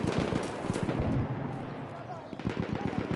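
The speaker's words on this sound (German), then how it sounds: "MG, feindlich!" Enemy machine gun fire in the World War I video game Battlefield 1: rapid bursts of automatic gunshots, sharp repeated cracks in quick rhythm, with background battle noise and a player speaking.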